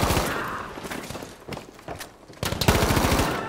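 Rapid bursts of close automatic gunfire in the World War II shooter Battlefield 5, loud rattling volleys with brief pauses between them.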